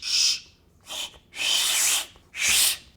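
A voice imitates a Shinkansen bullet train passing by with four breathy, hissing whooshes that swell and fade, the later ones longer and louder, close and alone.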